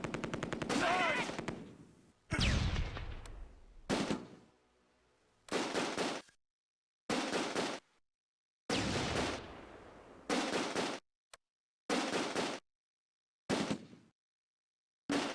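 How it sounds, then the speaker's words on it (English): Heavy gunfire from the WWII strategy game Close Combat: A Bridge Too Far in Operation Market Garden fighting: loud, dense machine-gun bursts repeating in choppy blasts separated by brief silences, with no talk over them. "We're under heavy fire!"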